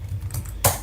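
A password is typed on a computer keyboard during Windows Server remote connection setup: a few soft key clicks, then one sharper, louder keystroke burst near the end, close and alone.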